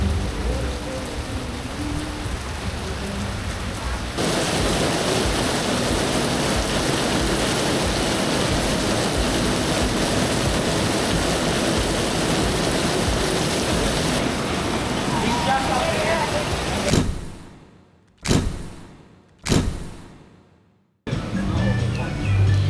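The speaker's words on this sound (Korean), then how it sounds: "스콜이 옵니다." A tropical squall in Thailand pours heavy rain in a dense, loud roar that surges after a few seconds and holds steady, then breaks into several abrupt cuts of near silence toward the end.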